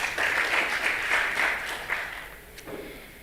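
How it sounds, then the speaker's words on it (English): A short burst of applause from an audience, fairly distant and fading out after a couple of seconds. "You need to clap for yourselves."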